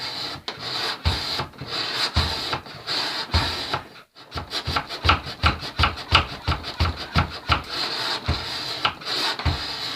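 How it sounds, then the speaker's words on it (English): A steel knife blade is hand filed in steady, rhythmic rasping strokes, close and loud, with a brief pause before the strokes resume quicker and more evenly. "Well, I've finally finished filing."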